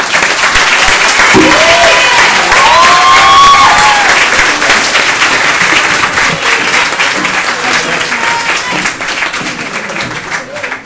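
Dense, loud applause from an audience at a 29th anniversary ceremony of El Colef carries on steadily throughout, with a voice speaking briefly over the clapping.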